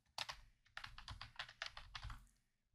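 Quick bursts of keystrokes on a computer keyboard as a file name is typed while saving a Microsoft Excel workbook, close and fairly loud, with short pauses between clusters of key presses and no talking.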